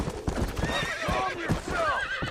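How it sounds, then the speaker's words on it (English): In the game Red Dead Redemption, wild horses clip-clop close by with rapid hoofbeats, and several shrill whinnies and neighs ring out, while a voice talks faintly underneath. "Ito dito, may tayo nakitang kabayo."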